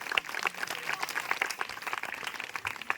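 A church congregation at a Christmas gathering claps in scattered, uneven bursts, moderately distant and somewhat faint, with sharp individual claps standing out.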